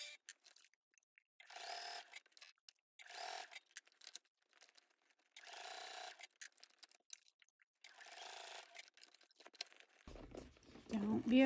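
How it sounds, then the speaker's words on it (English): A domestic sewing machine stitching around the top edge of a crossbody bag, running in several short bursts separated by pauses, moderately quiet. "So let's take this to the machine and let's sew around the top perimeter."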